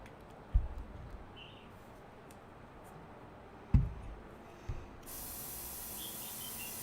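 A LATITOP airbrush being cleaned starts a steady, close hiss of spray partway through and keeps it up to the end, after a few soft knocks and taps in a quiet room.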